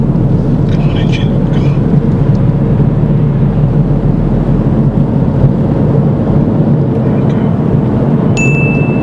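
A car engine strains and drones steadily while accelerating to overtake on a road, held in a gear that is too high, with a loud, continuous low rumble throughout and no clear change in pitch.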